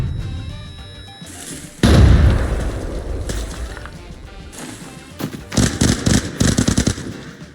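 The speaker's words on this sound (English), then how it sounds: "they were throwing a lot of nades my way." Grenade blasts and bursts of gunfire in the shooter game Arena Breakout, a heavy boom followed by rapid cracking shots that cluster in loud runs toward the end.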